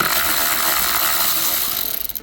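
A ratchet working a T20 Torx bolt on a Mini Cooper dashboard vent, a dense, steady close-up whir of rapid clicks that breaks into a few separate louder clicks at the end.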